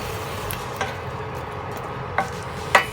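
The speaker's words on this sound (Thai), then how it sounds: "ความเดือดมาแล้วนะคะ" Chili curry paste and catfish stir-fry coming to a boil in a pan, a steady low hiss of bubbling with a few soft clicks and ticks from the pan, no voices.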